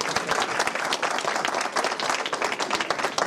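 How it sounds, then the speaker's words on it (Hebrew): An audience applauds loudly and steadily at a Hebrew community event, dense clapping filling the whole stretch without a break. "אתם יכולים עוד פעם למחוא כפיים"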